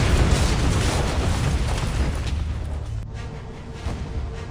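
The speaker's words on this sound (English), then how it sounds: "The violent explosion tears a huge hole in the hull." A torpedo explosion rips into the stern of the battleship Bismarck on her port side, heard as a loud, sustained rumbling blast that fades toward the end with no voices.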